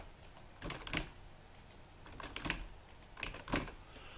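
Typing on a computer keyboard while entering arbitrary text into a web form, with clusters of quick, close key clicks in uneven bursts and short pauses between them, no voices.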